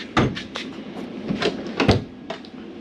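Sliding pocket door in a Jayco Greyhawk 30Z motorhome, several short knocking and rolling thuds as the panel moves along its track, close by with uneven spacing.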